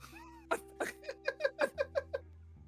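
A person imitates a cat, letting out a string of about eight short, nasal meows in a quick rhythm, close and clear over a low steady hum.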